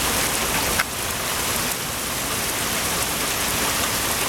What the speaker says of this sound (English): I mean, the way it's been raining, I don't know if you can even see it.